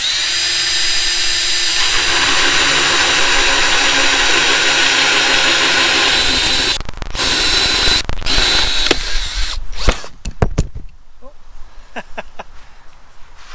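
A handheld power drill whirs steadily during a DIY narrowboat bathroom refurbishment, then stops and restarts in short bursts with clunks and handling knocks before the scene goes quiet.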